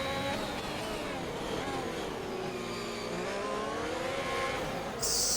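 Formula 1 race cars, a Haas and two McLarens, racing at Bahrain in F1 2021, with high-pitched engines whining and shifting through gears continuously up close, loud and layered, ending with a sudden hiss.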